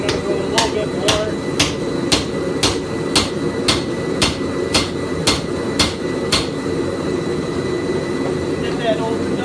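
A hammer strikes a chisel while cutting a notch into metal for a forged cross, giving around a dozen sharp, evenly spaced ringing blows over a steady droning background roar, fairly close.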